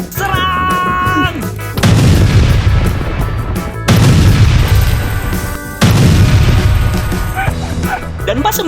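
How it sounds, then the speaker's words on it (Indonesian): A handheld firecracker gun fires repeated sharp booming blasts in three loud bursts, each followed by crackling and fizzing, with people shouting around it outdoors on holiday. "Abang gua malah megang petasan tembak."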